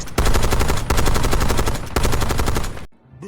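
Rapid automatic gunfire from a Call of Duty match, loud sustained bursts with brief gaps for nearly three seconds before cutting off into quiet, with a faint trailing tone at the end.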